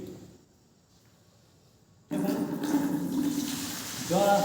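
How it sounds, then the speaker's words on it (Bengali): Water suddenly begins pouring in a magic trick, a loud splashing rush after two seconds of near silence, continuing steadily and swelling slightly toward the end. "জল আসছে ভূতায় নমঃ বলে"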